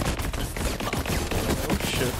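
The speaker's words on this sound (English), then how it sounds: "Oh, stupid sentry gun in a little thingy." Rapid automatic gunfire from a sentry gun in the video game Borderlands 3, a dense, continuous stream of sharp cracks over about two seconds, loud and close, mixed with game effects.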